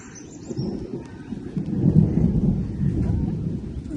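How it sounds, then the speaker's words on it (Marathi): Thunder rolls in a low, continuous rumble during a monsoon rain, swelling in the middle and staying steady to the end, heard alone over the patter of rain. "ढगांचा गडगडाट"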